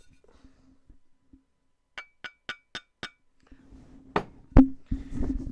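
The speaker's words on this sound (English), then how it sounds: "That is the sound of a wine glass" A run of five bright glass clinks in quick succession, then a louder clatter and a hum of handling noise as a wine glass meets a bottle of 2020 Colle Massari Italian wine, close and fairly quiet.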